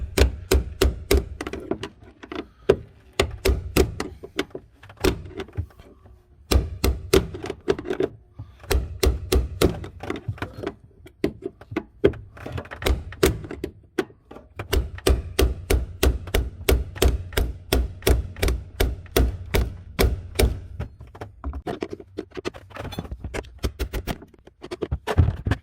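Repeated banging and hammering on metal while replacing the fuel pump in a 2014 Hyundai Sonata: close, loud strikes in fast bursts with short pauses between runs.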